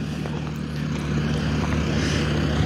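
A tractor clearing a riverbank gives off a steady, droning engine hum with a low tonal rumble that holds constant and fairly loud throughout.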